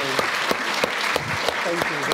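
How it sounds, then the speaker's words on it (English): Audience applauding at the end of a talk at the Cambridge Union, a dense steady patter of many hands filling the room, with a voice speaking over it in places. "Let's give a massive round of applause."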